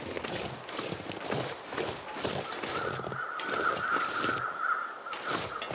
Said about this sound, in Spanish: Los cuervos los escucho por aquí.